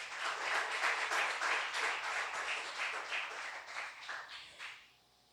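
Applause from a church congregation at a sermon, a fairly quiet but lively burst of many hands clapping in an irregular rhythm that tapers off near the end.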